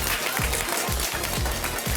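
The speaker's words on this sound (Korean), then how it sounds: "박수 한번 쳐보세요" A studio audience claps at a lecture-style talk show, a broad wash of clapping with a few rhythmic low thumps pulsing through it, moderately quiet and continuous for two seconds.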